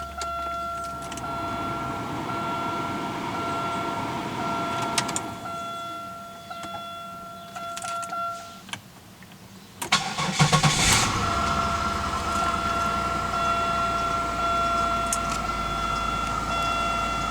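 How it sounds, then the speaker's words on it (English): A 1998 Oldsmobile Intrigue sits with warning chimes and cabin electrics humming, then the starter cranks briefly and the engine catches and settles into a steady idle, heard close from inside the car. "we'll go ahead and start it up real quick"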